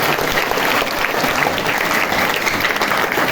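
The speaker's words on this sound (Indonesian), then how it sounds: "Tepuk tangan untuk sekolah kita." Dense, even applause from a school audience at a Nuzulul Qur'an gathering, a crowd clapping steadily and fairly loudly throughout with no pauses.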